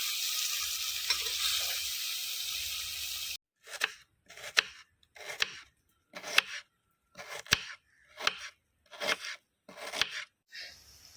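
Onions fry in a clay pot for a prawn fry, a steady sizzle for a few seconds, then a run of rhythmic scraping stirs against the pot, each stroke a short bright burst with quiet gaps between.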